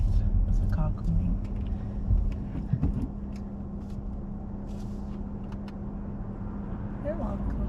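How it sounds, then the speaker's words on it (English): A car approaches and passes on a road during a mock driving test in Horsforth, Leeds, heard as a low rumbling swell from inside the vehicle with brief clunks, steady cabin hum underneath. "There's a car coming."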